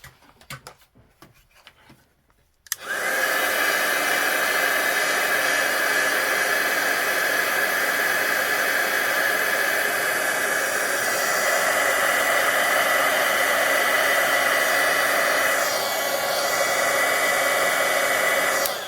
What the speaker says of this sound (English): Let's get my heat tool plugged back in and turn back on.